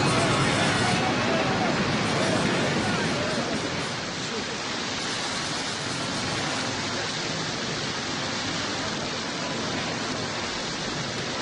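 Storm-tossed sea waves in a film scene, a roaring, unbroken wash of surf and spray that stays loud and dense from start to finish.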